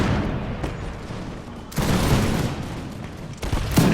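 Musket volleys in Imperial Splendour, the Napoleonic-era strategy game, crack out in a couple of massed bursts with rumbling, crackling fire between, moderately loud and heard without talk.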